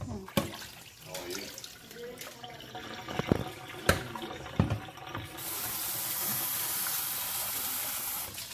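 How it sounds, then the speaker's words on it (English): Oxtail pieces rinsed under a running tap in a kitchen sink, a steady rush of water building and staying loud through the second half, with a few clunks and splashes earlier and some faint talk. "So you wanna wash it really well. Wash all the blood out."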